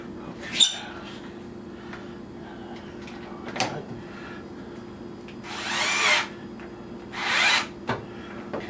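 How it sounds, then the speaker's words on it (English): A power drill drives screws into the lid hinges of an RCA / Magic Chef washer. Two short whirring bursts sound close and moderately loud, with a few small clicks and handling knocks around them. "Put the two screws back in."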